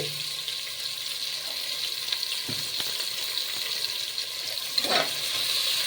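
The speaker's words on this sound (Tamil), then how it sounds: "நல்லா சூடு பண்ணி வதக்கணும் வெங்காயம் போட்டாச்சு பச்சை மிளகாய் போட்டாச்சு" Onions and green chillies sautéing in hot oil and ghee with cinnamon, cloves and spices for coconut milk rice, a steady close sizzle with occasional scrapes and clinks of stirring.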